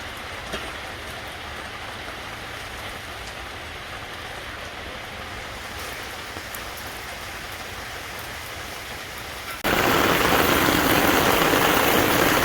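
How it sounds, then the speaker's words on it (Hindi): Heavy rain pours steadily outdoors during a barbecue, a dense continuous hiss that suddenly grows much louder and closer near the end, with no voices. "ओके जी, सख्त बारिश शुरू हो गई है,"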